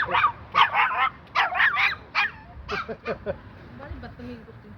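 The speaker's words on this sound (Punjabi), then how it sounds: "ਭੌਂਕਦੀ ਰਹਿੰਦੀ ਬਿਨਾਂ ਗੱਲ ਤੋਂ" A female dog barks repeatedly in quick bursts, close and loud, in a village near Bathinda, Punjab, then trails off into softer yips and whimpers.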